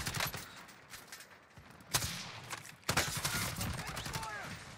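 Gunfire in a shooter video game, bursts of shots with a couple of sharp louder reports, over a steady background of game noise and music.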